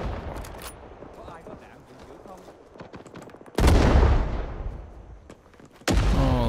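Two heavy explosions in Rising Storm 2 burst loudly over a steady wash of distant battlefield gunfire, the first booming and fading slowly, the second striking about two seconds later.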